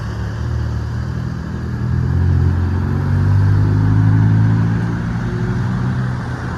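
A Ferrari Roma drives past on the streets of Monaco during the Formula 1 Grand Prix weekend, its low engine rumble swelling in the middle and easing off again, close and steady with no talking.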